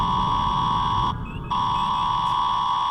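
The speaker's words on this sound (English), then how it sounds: "Turn the alarms off. You can't hear yourself speaking here." A spaceship alarm in a space comedy sounds loudly: a steady electronic tone that cuts out briefly, then resumes and holds until just before the end.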